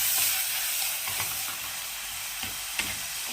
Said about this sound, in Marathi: आता आपण याच्यात टमॅटो टाकून घेऊ छान परतवून घेऊ